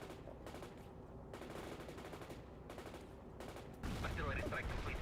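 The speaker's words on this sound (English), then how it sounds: "artillery strike completed" Heavy artillery strike in the video game World in Conflict, a steady barrage of booming blasts and rattling gunfire that grows louder and denser toward the end, with a faint voice underneath.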